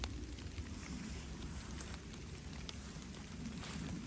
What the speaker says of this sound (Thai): ฝนมันตกไปพี่น้อง น้ำมาจ้ะ